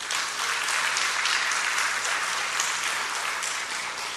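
A church congregation applauds steadily and loudly, a dense wash of clapping filling the whole stretch with no talk over it.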